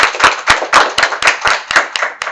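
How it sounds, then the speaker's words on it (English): Applause for a speaker at a Black Film Center & Archive event, loud close claps falling in a quick irregular rhythm that stays steady. "giving him one more round of applause"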